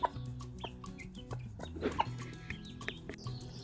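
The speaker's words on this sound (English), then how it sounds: "looks like the chickens are happy." Backyard chickens cluck softly and repeatedly in a garden, with a mother hen among young birds and a cockerel nearby; short overlapping clucks and low calls run through the whole stretch at close range, with no talking.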